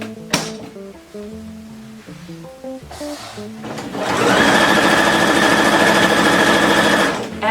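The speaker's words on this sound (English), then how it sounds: "and pop it into the sewing machine." A sewing machine stitches a folded fabric hem on a dress. A few knocks and light handling noises come first, then a loud, fast, steady whir runs close for several seconds.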